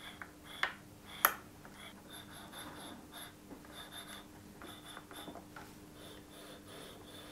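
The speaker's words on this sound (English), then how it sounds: "One thing I did notice about the faders is the mechanical noise they make when sliding." Faders on a Traktor Kontrol S4 Mk3 DJ controller slide back and forth, giving faint, soft scratchy scraping with a couple of sharper clicks early on, quiet and close with no talking.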